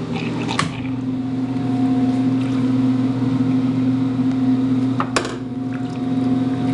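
A 1965 Maytag Highlander A502S washing machine agitates on its low speed, a steady droning motor hum with a rhythmic churning, loud and close, with a couple of brief knocks and no talking.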